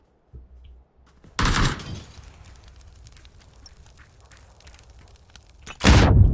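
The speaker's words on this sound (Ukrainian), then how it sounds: "Він з 590 стріляє акуратно" Two loud bursts of gunfire from a 590 shotgun in PUBG, one early and one at the end, with a low rumbling background in between.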